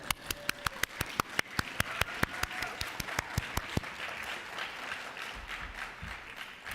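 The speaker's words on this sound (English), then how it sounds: "We can keep clapping." An audience at a Black History oratorical competition keeps clapping, with sharp, distinct close claps in a quick steady rhythm over a softer crowd wash that gradually fades, and a low engine-like hum underneath.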